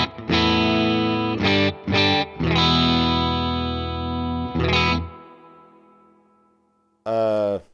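Electric guitar played through a Fender Tone Master Pro amp, miked close at 2 inches on the speaker cap edge: sustained distorted chords with a few restrikes, a decaying ring, and a final short chord.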